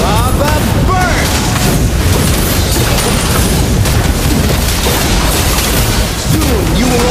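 Fiery blast effects from the mage Valir's Lava Burst skill in the Mobile Legends: Bang Bang video game, loud booming bursts and crackling explosions packed densely over a dense battle mix.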